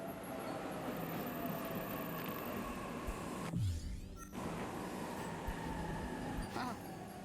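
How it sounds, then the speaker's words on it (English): A train pulls into a station in 13 Sentinels: Aegis Rim, a steady, loud rolling rumble with a brief descending mechanical whine midway. "Train's already here."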